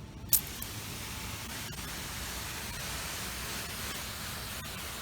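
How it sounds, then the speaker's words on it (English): Plain water misted from a spray bottle onto an outdoor sculpture to loosen debris before cleaning, a steady close hiss running without pause after a brief sharp burst at the start. "you can use this with a spray bottle or the larger spray container"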